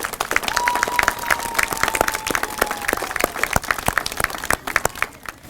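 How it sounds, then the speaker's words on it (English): Audience at a school morning event claps steadily in an indoor hall, a dense patter of many hands that holds for several seconds and then thins out, with a faint tone sliding underneath. "How about a round of applause for those people?"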